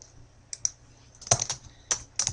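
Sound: typing on a computer keyboard in Microsoft Word

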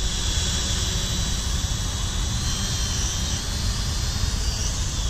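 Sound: X8TW Skyhunter foldable pocket drone hovering, propellers

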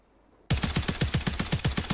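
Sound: gunfire in the video game Warzone

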